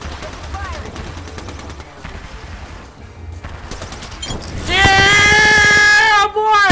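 Gunfire in the battle royale Apex Legends, a mix of shots under game noise that builds into a loud, rapid burst with ringing tonal effects toward the end.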